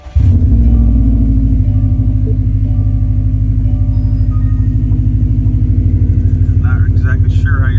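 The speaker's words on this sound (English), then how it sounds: "I'll go ahead and start the car up." A Subaru WRX STi engine starts with a short burst and then settles into a steady, loud low rumble that carries the whole way through, with a voice briefly heard near the end.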